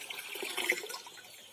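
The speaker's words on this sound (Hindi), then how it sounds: "और अब ये पानी मिक्स कर लेंगे और बर्तनों में डाल देंगे।" Water being stirred and mixed in a bucket with dissolved Septran tablets for poultry on a chicken farm, a soft continuous sloshing and splashing close by with no talk.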